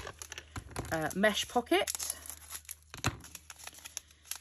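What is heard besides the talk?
bags of diamond painting drills being cut and handled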